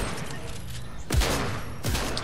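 Gunfire in the video game Fortnite comes as two quick bursts of shots, about a second apart, over steady game background noise.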